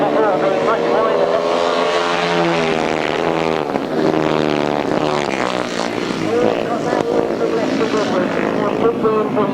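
500cc sidecar outfits racing on a grasstrack, engines droning loudly and continuously, rising and falling in pitch as the machines pass, with a commentator talking over the noise throughout.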